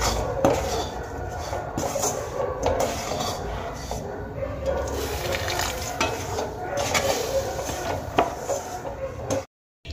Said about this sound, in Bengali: একটা খুন্তির সাহায্যে আমি নাড়িয়ে নিয়ে একটা ডো বানিয়ে নেব